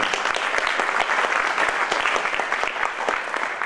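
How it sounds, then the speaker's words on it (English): An audience at a VR meetup claps steadily, a dense, even wash of many hands applauding close by for the whole moment without pause. "let's give John a round of applause one more time"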